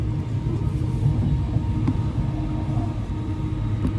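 Train pulling into London Euston, a steady loud rumble of wheels and carriage noise with a couple of faint clicks, continuous and close.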